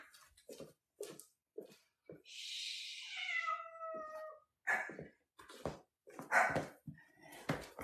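Excited dogs in a house give a string of short barks and yips with a drawn-out whining cry in the middle, close by and fairly quiet overall.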